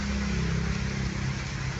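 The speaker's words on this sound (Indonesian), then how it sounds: "ya, jalan mobil lagi" Steady road traffic in heavy rain in Jakarta, with a low engine rumble and broadband hiss of tyres on a wet, flooded surface, continuous and fairly close.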